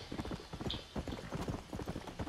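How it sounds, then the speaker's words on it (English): Hooves of a heavy, Clydesdale-like horse clip-clop in Red Dead Redemption, a steady, close, galloping rhythm of dull thuds with some background noise, continuing without a break. "I love this horse. It's like a Clydesdale."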